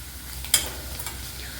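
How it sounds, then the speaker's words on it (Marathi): Goda masala and cashews frying in hot oil while being stirred, a low steady sizzle broken by one sharp scrape of the spoon near the start and a few softer clinks, with no talking. "हा गोडा मसाला टाकून घेऊयात आणि छान हलवून घेऊयात"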